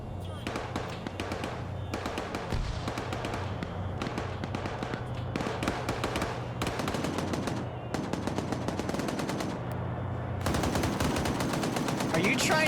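Rapid bursts of automatic gunfire in Arma 3, dense rattling volleys and single shots cracking in quick succession, loud and close, with voices talking at times.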